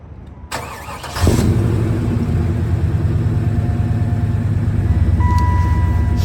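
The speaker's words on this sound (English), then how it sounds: "I'm going to give it a start. Then we'll have a listen to the engine and the exhaust" A 1996 Chevy Impala SS engine with 62,000 km cranks briefly, catches, and settles into a steady, loud idle rumble through the exhaust that continues to the end.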